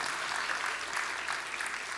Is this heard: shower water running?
no